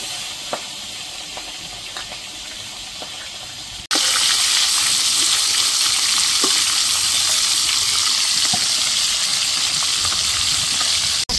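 Bhetki fish pieces drop into hot mustard oil in a wok. A quiet background hiss jumps at once into a loud, dense, continuous sizzle that carries on steadily, with a few faint clinks and no voices.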